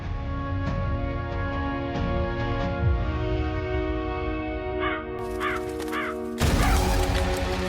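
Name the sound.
crows cawing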